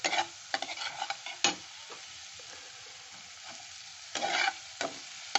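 Ginger garlic paste stirred and frying in a pan for egg aloo ghati, with repeated scraping stirs over a soft, steady sizzle, loudest in short bursts near the start and end.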